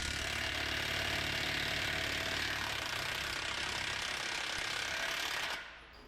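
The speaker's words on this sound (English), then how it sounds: "I'm going to show you how much harder the Milwaukee hits and how much faster it takes off this other nut" Milwaukee impact wrench hammering off a nut on a Caterpillar mulcher, a loud continuous rattling buzz held for several seconds before cutting out near the end.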